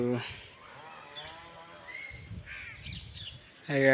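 Crows cawing near a coconut palm in a village, one harsh call at the start and another at the end, with quieter ambient noise between.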